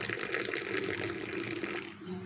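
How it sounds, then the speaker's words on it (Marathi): Hot milk is poured from above into a cup holding cappuccino powder, a soft continuous liquid gush lasting about two seconds, close and fairly quiet, with a voice speaking faintly over it. "यामध्ये असं गरम गरम दूध ओतायचं आहे, असं वरतून ओतायचं"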